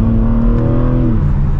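A BMW M3 engine and exhaust accelerate hard, a loud, steady revving drone rising in pitch and then dropping as it shifts, with no talk over it.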